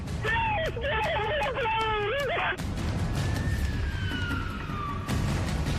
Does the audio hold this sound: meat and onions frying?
no